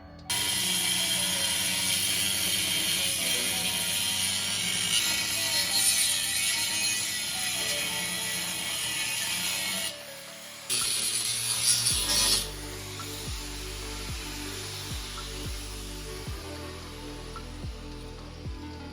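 A cutter works around a guide line scored on a BMW Style 5 wheel, cutting it apart into a three-piece style: a continuous close grinding and rasping that briefly cuts out, then resumes with a regular ratcheting rhythm.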